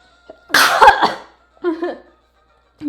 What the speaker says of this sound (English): I'm gonna cough in a second. It's gonna be super loud, so I apologize.